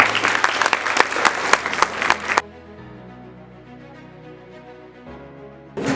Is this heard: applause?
yes